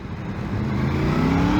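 A Yamaha MT-10 motorcycle pulls hard from low revs, its engine note rising steadily and growing louder under rushing wind noise, heard close from the rider's position.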